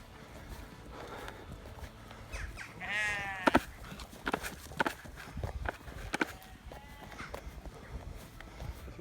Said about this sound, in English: we've had to put a small group of ewes in a pen in the yard